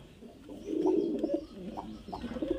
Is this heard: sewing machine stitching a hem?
no